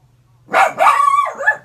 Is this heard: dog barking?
yes